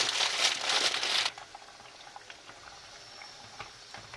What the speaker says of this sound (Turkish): Makarnam için tencereme aldığım suyum kaynadı.